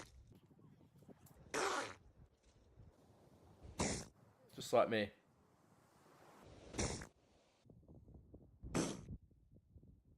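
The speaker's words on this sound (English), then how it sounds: "This is what a seal sneeze sounds like." A seal sneezing in several sharp, snorting bursts spaced a couple of seconds apart, close and fairly loud, with a brief spoken phrase between them.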